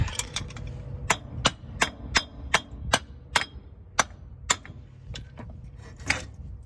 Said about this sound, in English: Just take your hammer and hit it a couple times